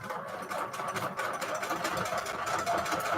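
A sewing machine runs steadily while stitching fancy decorative stitches on bedsheet fabric for notecards, a continuous close mechanical whir with a fast rhythmic chatter throughout.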